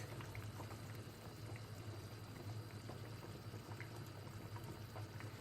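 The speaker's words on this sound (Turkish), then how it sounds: "Şimdi köftelerimizi şu şekilde içine boşaltacağız." Meatballs for a Turkish potato meatball stew tip into a pot of boiling water, a steady bubbling, rolling boil with soft pouring and splashing under it, continuous and fairly close for several seconds.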